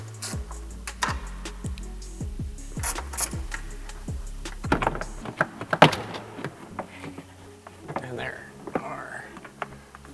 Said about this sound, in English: we're going to remove these 2 10 mil head bolts on either side